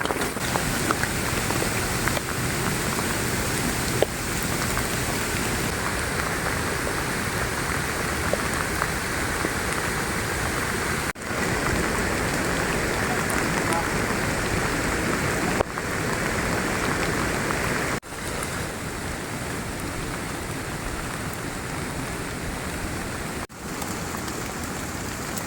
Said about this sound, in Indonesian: air hujannya masih terus bercucuran kayak gitu